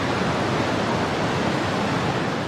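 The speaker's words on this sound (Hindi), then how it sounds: "दूसरी कहानी को सुनने से पहले आप सरस्वती नदी की आवाज़ सुन लीजिए।" The Saraswati river rushes in a steady, loud, dense roar of flowing water, continuous and close with no voices.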